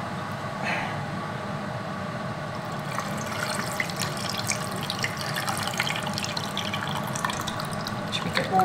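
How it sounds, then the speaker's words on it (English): Liquid is poured over food outdoors, building into a steady splashing wash through the second half over a low, continuous background rumble. "And so I'm going to pour this over."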